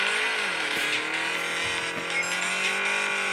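Car engine revving and tires sliding through a drift in the mobile racing game Drift Max Pro, a steady sustained whine held loud throughout without pause.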